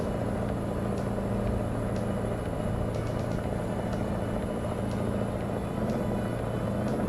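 A steady, droning truck engine rumble in American Truck Simulator holds throughout at about 2500 rpm with a faint high whine on top, revving hard and continuously.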